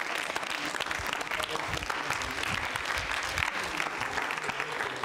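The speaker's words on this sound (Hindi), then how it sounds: "जोरदार तालियां बजनी चाहिए।" Loud, continuous audience applause at a university quiz show on consumer protection, a dense, even roar of many hands clapping throughout, with some voices underneath.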